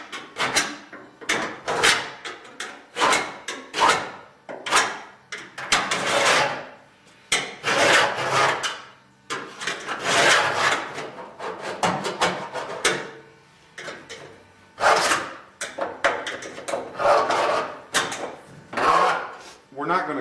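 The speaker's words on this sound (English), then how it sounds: "Now you want to scribe" A sharp tool is scraped repeatedly across the old sheet-metal trunk floor pan of a 1968 Pontiac GTO, making irregular bursts of gritty rasping, close up, with someone talking between strokes.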